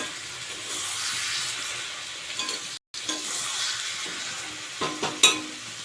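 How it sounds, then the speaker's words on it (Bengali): Tomato pieces fry in a pan, a soft continuous sizzle with occasional spatula stirs and sharper clatters near the end, broken by a brief silent gap, close and quiet, no talking. "একটা টমেটো নিয়েছি টুকরো করে দিয়ে দিলাম ভালো করে এটা নেড়ে ছেড়ে নেব"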